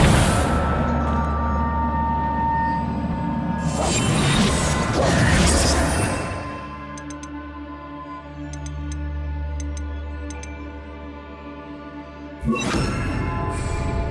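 A Reparo repair spell in the Hogwarts Legacy video game sounds as magical crashes and clattering bursts over a steady, humming musical background, with a second burst near the end.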